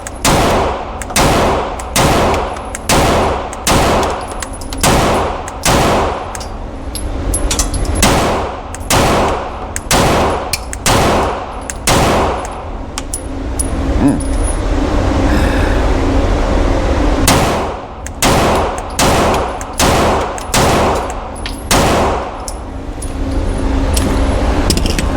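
A Canik MC9 Prime pistol fires a long string of loud, sharp gunshots, close and evenly spaced, with a pause partway through before the rapid shots resume, each crack followed by a short ringing tail.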